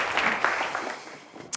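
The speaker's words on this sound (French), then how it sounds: "Applaudissements." Audience applause during a French broadcast, a steady wash of many hands clapping throughout, with no talk over it.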